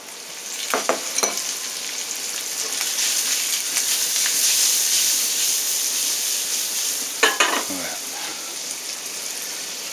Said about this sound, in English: All we're going to do right now is get that Spam browned.